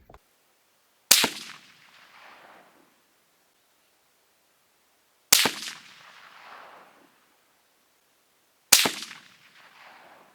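Three sharp, loud gunshots from a CVA Scout pistol in 6.5 Grendel firing Hornady Interlock handloads, spaced several seconds apart outdoors, each crack followed by a short fading echo.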